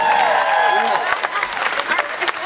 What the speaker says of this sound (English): How about a big round of applause for all the contestants one more time?